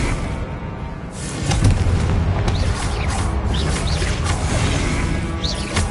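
In Hogwarts Legacy, a Confringo fire-blast spell erupts in a loud booming explosion that swells after a second and rumbles on with crackling debris and lingering roar.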